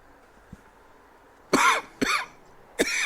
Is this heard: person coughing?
yes